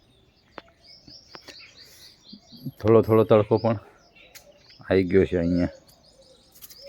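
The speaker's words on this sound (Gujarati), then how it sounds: "પક્ષીઓનો અવાજ કલરવ થઈ રહ્યો છે." Birds chirp and call faintly in a backyard garden on a warm summer day, with short distant tweets scattered under a person talking nearby.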